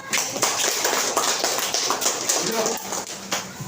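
Schoolchildren in a classroom clap together in a quick, rhythmic burst of sharp taps, fairly close and loud, with voices mixed in.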